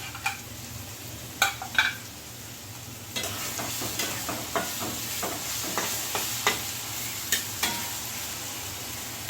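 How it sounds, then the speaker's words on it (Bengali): A paste of garlic, green chili and ginger sizzles in a pan while a spoon stirs it, soft scraping strokes repeating steadily over a constant frying hiss, close and moderately loud with no talk. "তো ভাজা হচ্ছে"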